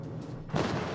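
A salvo from the New Mexico battleship in World of Warships: a quiet rumble first, then a loud, full boom bursts in about halfway through and rolls on to the end.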